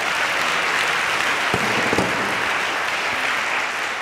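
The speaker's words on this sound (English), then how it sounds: "Can we give God a hand clap of praise right there?" A church congregation breaks into steady applause in praise during a sermon, a dense, even wash of many hands clapping at once, loud and sustained.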